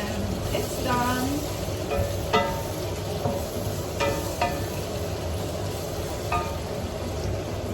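Low-carb Filipino pansit noodles are stir-fried in a pan with a constant moderate sizzle and occasional scraping or clinking of a utensil, steady and close, with no talk.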